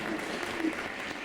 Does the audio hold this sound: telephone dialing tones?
no